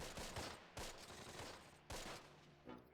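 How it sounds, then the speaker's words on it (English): Distant rolling bursts of small-arms fire from a tactical war game, German elite forces fighting in a Dutch village, with several sharp volleys and a scattered crackle between them. "we're taking fire"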